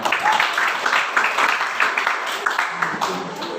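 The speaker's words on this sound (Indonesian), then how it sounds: "Oke, tepuk tangan dulu semua." A class breaks into general applause, a dense, steady wash of many hands clapping at once, fairly close and sustained for several seconds.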